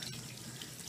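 Hands are rinsed under a running tap, a steady close hiss of flowing water splashing into a sink.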